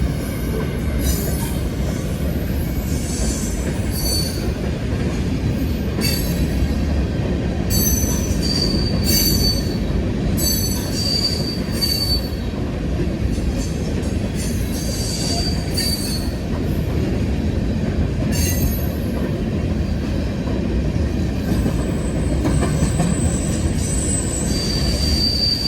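An empty BNSF potash freight train of 83 Mosaic cars rolls past nearby, a loud steady rumble with shrill wheel squeals and flange screeches flaring repeatedly above it throughout, no talking.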